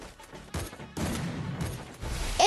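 Gunfire from a shooting video game: a few close, loud shot bursts and rattles across a short span with no talking.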